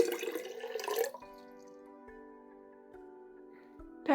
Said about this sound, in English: you're just gonna hear me pour water.